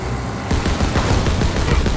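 Rapid bursts of a mounted machine gun in a Call of Duty: WWII battle, loud and close, starting after a brief lull and hammering on continuously with heavy, dense reports.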